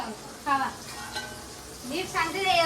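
Prawns and bombil fish frying in a home kitchen, a soft steady sizzle underneath with brief voices talking over it at a moderate level.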